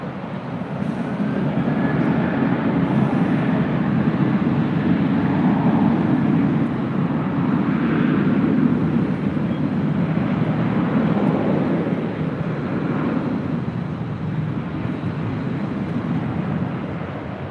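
A Southwest airliner takes off from runway 24 left at LAX, a steady, loud jet-engine roar that holds for the whole stretch, with no voices over it.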